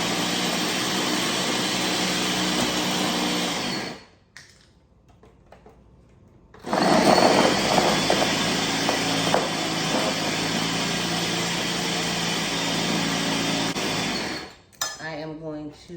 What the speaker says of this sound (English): we're just going to blend it. I love my Ninja Foodie blender.